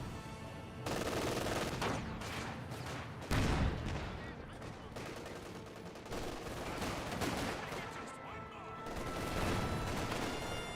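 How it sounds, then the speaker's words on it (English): Rifle and machine-gun fire from Obersoldaten squads in a Company of Heroes 2 battle, with dense bursts and repeated cracks clattering throughout the scene and a commentator's voice running over parts of it. "Got the Obersatzen firing away, hitting that intersection"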